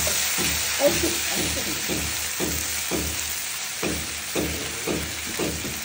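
Cumin and turmeric sizzle in hot oil in a pan, a steady close frying hiss broken by regular stirring clatters, with no voices.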